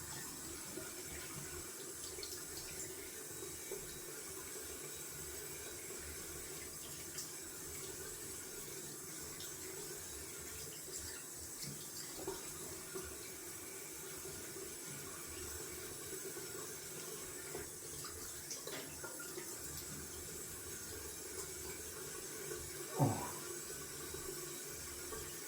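Cold water runs steadily from a bathroom tap during a wet shave rinse, a faint, even hiss and trickle continuing without break, with one brief louder splash near the end.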